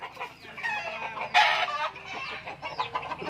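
Chickens cluck repeatedly on a rural farm, a close, busy stream of short calls with one louder squawking burst in the middle, surrounded by other yard noise.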